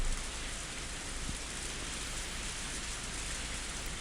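Steady heavy rain from the Higurashi When They Cry video game, a continuous dense hiss of downpour at even loudness with no other sounds.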